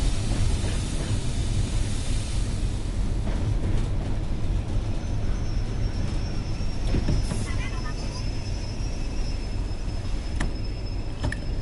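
A train runs in the Train Sim World video game, a steady low rumble of wheels and motor with a few faint clanks and a thin distant siren-like tone, carrying on without a break.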